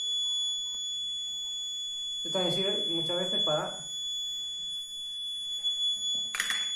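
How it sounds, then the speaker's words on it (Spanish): A thin, high-pitched electronic buzzer tone from an infrared perimeter barrier alarm sounds steadily throughout, while a person speaks over it partway through. "Vamos a ver con el buzzer"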